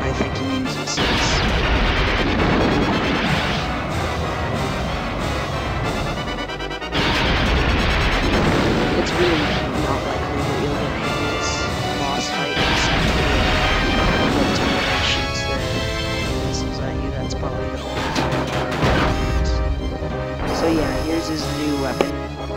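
Boss fireballs crashing down in the Crystal Caves boss fight of Donkey Kong 64, heard as repeated heavy booming impacts and crashes over game music, with a voice talking in places.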